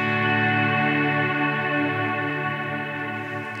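An electric guitar played through a reverb pedal with a volume pedal swell, giving a sustained, steady chord wash with rich harmonic layers that slowly fades toward the end, with no talking.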